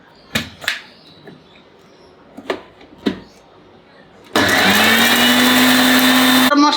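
An electric grinder whirs loudly and steadily while grinding spices with cardamom in a home kitchen, starting abruptly after a few scattered knocks and clatters, then running at full power for a couple of seconds before cutting off.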